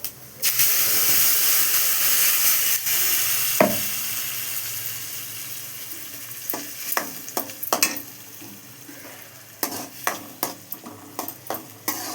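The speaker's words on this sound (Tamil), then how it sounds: "அடுப்பில் நல்லெண்ணெய் ஊற்றிட்டு வடவும் வடவும் போட்டு தாளிக்கிறேன்" Sesame oil sizzles and hisses loudly in a hot pan as spices are tempered. A utensil clinks and scrapes against the pan now and then as the spices are stirred.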